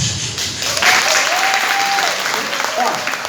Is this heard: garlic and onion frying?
no